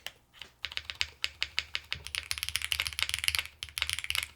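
Keystrokes on a Xenox mechanical keyboard fitted with HMX Hydra roller switches, at first spaced, distinct clacks, then quickening into a dense, rapid run of close, crisp typing.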